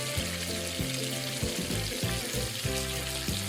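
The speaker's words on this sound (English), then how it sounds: "Heat cooking oil over low heat and add Sichuan peppercorns" Sichuan peppercorns fry in cooking oil over low heat, giving a soft, steady sizzle with small crackles close by, while a low, uneven clatter rises and falls beneath it.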